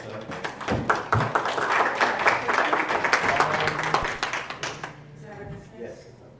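Audience applause at a food recovery summit breakout session, a room of clapping that swells, holds for about four seconds, then fades out near the end, with speech around it.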